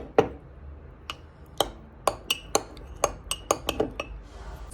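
Repeated clinks of a spoon or utensil against a glass while mashing a banana shake by hand, a dozen or so sharp, close taps in irregular rhythm with brief pauses between.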